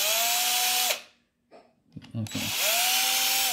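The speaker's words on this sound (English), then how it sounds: "We started drilling a little bit." A power drill bores a hole in a plastic battery adapter for a Yuneec Mantis Q drone, two loud whirring bursts rising and falling with a quiet gap and light handling clatter between them; a voice speaks briefly.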